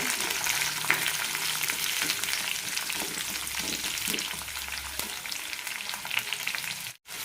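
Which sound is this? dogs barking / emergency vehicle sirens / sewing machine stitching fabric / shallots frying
shallots frying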